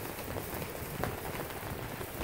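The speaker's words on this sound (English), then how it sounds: "it's raining so bad" Heavy rain pours down outside an RV parked beside a small cabin on the Oregon coast, a steady, dense hiss that holds at an even level throughout, with no voices.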